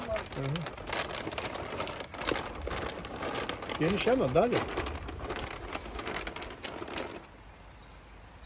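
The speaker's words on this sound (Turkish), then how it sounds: "Yağmur yine başladı" Rain patters steadily with a crinkly, crackling texture, close by, at a village chicken coop while people talk over it; the patter fades near the end.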